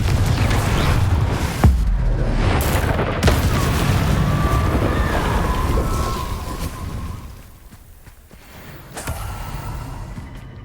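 A Confringo fire spell explodes in the Hogwarts Legacy video game: sharp booming blasts land near 1.5 and 3 seconds amid a dense rumbling, crackling roar that fades after seven seconds before another hit, with no talking.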